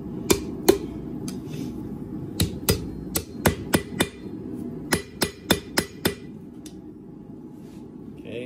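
Hammer blows on hot steel over the center of an anvil, bending a forged bar toward a 90-degree angle for a paper towel holder; sharp ringing strikes land alone in irregular bursts, some close together, near and fairly loud.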